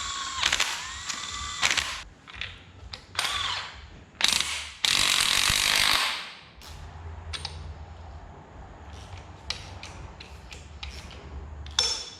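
A hand ratchet undoes the connecting rod caps on a worn engine, with rapid close clicking bursts and a few louder whirring spins, followed by quieter scattered clicks.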